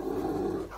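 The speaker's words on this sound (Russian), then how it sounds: "Тут еще собачки привязались." Dogs growling in the video game S.T.A.L.K.E.R. OGSE, a continuous low rumbling snarl that stays close and fairly loud throughout, with no talk over it.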